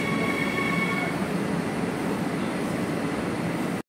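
A passenger train rolls between Be'er Sheba and Jerusalem in Israel, a steady loud rumble of wheels and car noise with a faint squealing tone early on, continuous and close until it cuts off abruptly at the end.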